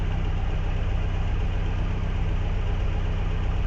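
The engine of a Renault 17 TS with a Weber carburettor idles at 800 rpm with 10 degrees of ignition advance, giving a steady, even low hum with a constant fast pulse.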